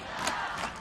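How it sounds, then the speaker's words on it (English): A beach volleyball crowd in Brasilia roars and cheers in a short, fairly faint burst that swells and fades within a second. "Crowd behind their man"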